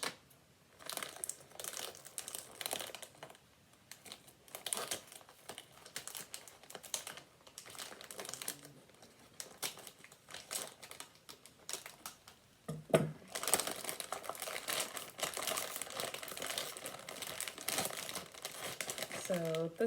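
Packaging for a PopinCookin candy sushi kit being cut open, giving crinkling plastic and paper and snipping sounds in short bursts, with the rustling growing denser and louder near the end.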